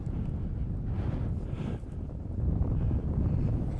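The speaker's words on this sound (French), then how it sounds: "Le vent a fini par forcir" Wind roaring past while paragliding over the coast at Carolles-Sud-Ouest in Normandy, a steady low buffeting rush that swells and eases, with no voices.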